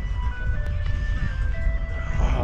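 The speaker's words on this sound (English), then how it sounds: "Look at that ice cream truck." Ice cream truck on a street in Chicago's Jackson Park area, its chime melody of thin sustained tones heard faintly over traffic rumble and outdoor noise.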